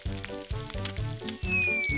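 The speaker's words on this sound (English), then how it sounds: "Should we give it a stir?" A cartoon sound effect of ingredients being stirred in a cooking pot repeats as a steady loop of bubbly, bouncy pulses about four times a second, with a brief rising whistle near the end.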